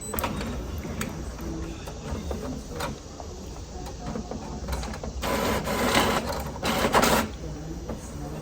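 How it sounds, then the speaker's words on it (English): An Epson EcoTank 8550 inkjet printer running an alignment check print, whirring and clicking steadily as the print head shuttles, with louder bursts of mechanical motor noise near the end. "we're gonna do a print alignment check, which this prints the alignment patterns."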